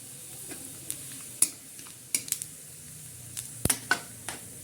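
Cumin seeds crackle in hot oil alongside cardamom, cloves and cinnamon, a faint, soft sizzle broken by sharp pops and scattered clicks of a spoon against the pan, with no talking.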